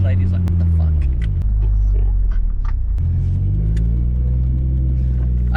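A Nissan Skyline R33 with a forged RB25DET engine rumbles loudly and continuously, the engine note rising and falling as it revs on a first test drive.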